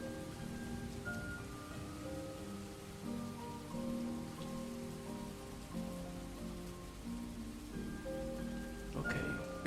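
Steady rain patters on surfaces as ambient sound in a video game, a continuous moderate hiss of drops layered under sustained tonal music, with a brief sharper burst near the end.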